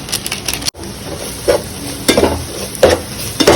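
Spicy chicken masala sizzles loudly in a pan while a utensil stirs and scrapes, with repeated scraping strokes over a constant frying hiss.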